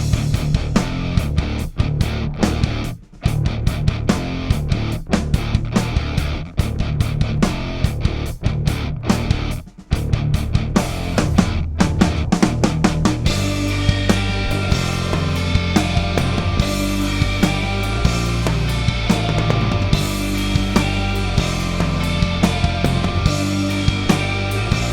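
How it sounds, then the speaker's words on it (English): Recorded drum kit track with clean tones, loud and close: busy kick, snare and cymbal hits at first, then denser sustained crash and ride wash over steady beats, with no voices. "So here's just the drums."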